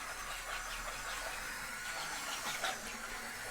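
A small D-O droid robot drives across deep carpet, giving a steady close motor whir with a hissy, strained texture that swells slightly and never stops, with no voices.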